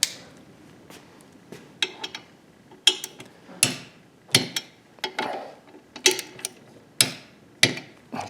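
Torque wrench tightening the swing arm extension bolts on a Kawasaki ZH2 motorcycle, set to medium torque around 15 to 30 foot-pounds; a close series of sharp ratcheting clicks and metallic taps repeats at irregular intervals, with no talking.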